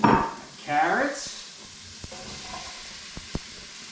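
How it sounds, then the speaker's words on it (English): Chopped onions hit a hot oiled pan for a venison shepherd's pie, giving a sudden loud sizzle that quickly settles into a steady hiss, with a few light utensil taps. "And then I'm going to add in my onions."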